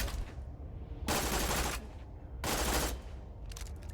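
Automatic burst gunfire from a weapon in the video game Borderlands 2, two loud sustained rattling bursts of about a second each, separated by quieter game ambience, with another short burst beginning at the end.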